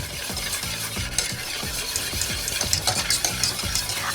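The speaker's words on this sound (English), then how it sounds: "We're gonna whisk that in there." Whisk beating granulated sugar into a chocolate glaze in a bowl, a quick, rhythmic scraping and clicking that repeats steadily at close range with no talking.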